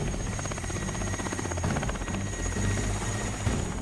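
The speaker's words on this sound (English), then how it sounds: "Helicopters taking us to opposite side." A helicopter carries an expedition team across North Pole sea ice, its rotor and engine producing a steady, loud, continuous thrum throughout, with no voices.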